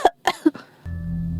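A woman coughing in three quick harsh bursts, close and fairly loud, followed by a steady low hum.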